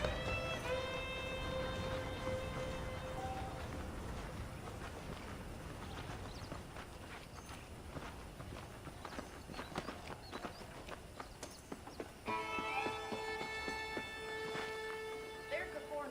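Horse hooves clip-clopping in Red Dead Redemption, a steady walking rhythm of light hoof knocks under game music and ambient sound, with brief bursts of tonal music at the start and end.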